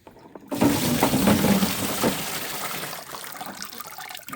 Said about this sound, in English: I'm just going to start dipping bucketfuls of it and sieving them through. And we pour it through.